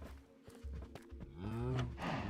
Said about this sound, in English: We'll get the cows to breed as much as they can.